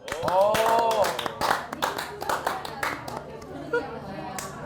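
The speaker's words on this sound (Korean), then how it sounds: "박수 한번 주세요." A small group of office colleagues claps hands in a short burst of sharp, close claps amid voices and laughter, tapering into scattered claps as talk continues.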